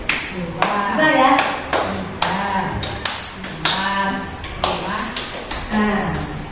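Quick hand claps in a counting game with a teacher, coming in short bursts and alternating with spoken counting, close and fairly loud throughout.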